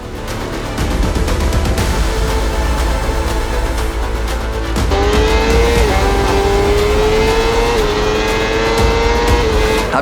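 Honda racing motorcycle at Assen, loud engine accelerating hard down the straight with a rising, sustained whine that climbs in pitch through gear changes, up close and steady, with no talking.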